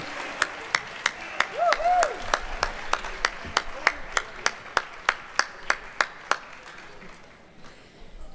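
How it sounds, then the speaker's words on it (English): An audience claps for a school band after its holiday winter concert. The clapping settles into a steady, rhythmic unison beat over a softer crowd wash, then stops near the end. "let's give our Warrior Atkinson Band one more round of applause"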